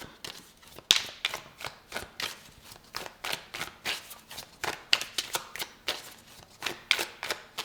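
Tarot cards are shuffled by hand in a quick, steady series of crisp riffling snaps and slaps, close and clear, with no talking.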